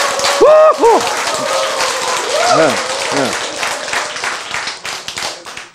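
A seminar audience claps and cheers loudly together, a dense burst of applause with a speaker's amplified voice rising over it, then the clapping thins out toward the end.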